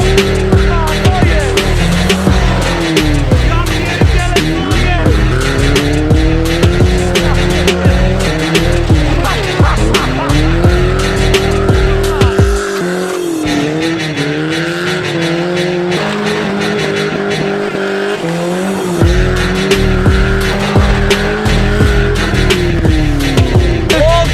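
A BMW E46 fitted with tractor tires driving on dirt, its engine loud and close and revving up and down continuously, with a brief lull in the middle and rough tire noise throughout.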